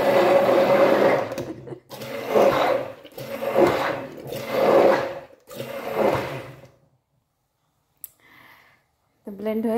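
A kitchen blender purees mango for mango leather in repeated pulses, about five loud whirring bursts with short pauses, then stops, followed by a quiet click and a voice speaking.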